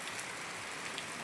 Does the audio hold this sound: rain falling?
yes